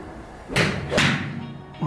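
Golf balls struck at a driving range give a couple of sharp, close thwacks in quick succession, with a brief voice at the end.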